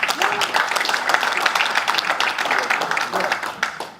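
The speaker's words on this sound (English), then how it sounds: "Give him a warm round of applause." An audience applauds, a dense wash of clapping that holds steady for a few seconds and then fades.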